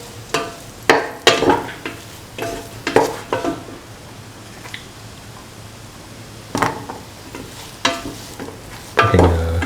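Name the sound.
sauteing cauliflower and bottle gourd in a pan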